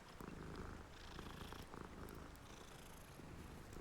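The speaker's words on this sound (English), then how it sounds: "Always pet the cat." A cat purring steadily while being petted in Hogwarts Legacy, a soft continuous rumble that fills the whole stretch without any talk over it.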